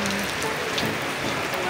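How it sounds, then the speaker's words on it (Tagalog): Heavy rain pours down steadily on an open-air street market stall, a dense, loud hiss of drops striking surfaces that fills the whole moment and cuts off abruptly at the end. "Malakas ang ulan."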